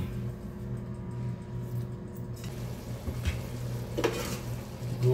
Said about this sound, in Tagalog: Ayan, haluin natin.